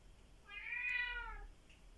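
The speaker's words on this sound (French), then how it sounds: "Ah bah le chat qui miaule là." A single drawn-out meow from a cat rises and falls over about a second, fairly faint and alone against a quiet indoor background.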